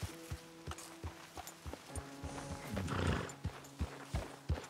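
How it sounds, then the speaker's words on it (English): Hooves of a Morgan horse in the Red Dead Redemption 2 video game thud in a steady walking clip-clop rhythm, close and clear, with a snort or soft whinny midway and faint ambient outdoor sound. "I've got a Morgan horse, yep."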